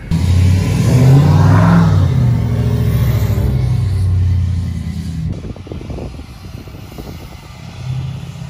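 A Ford F350 truck revs hard and accelerates through mud, its engine roaring loud and close before the note drops and the rumble settles into a lower, rougher churn.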